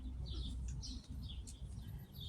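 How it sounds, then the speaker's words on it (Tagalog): Several birds chirping and tweeting in the treetops, quick bright calls overlapping in short bursts over a soft outdoor background hum, fairly faint and distant. "Kasi ang daming mga ibon na humuhuni."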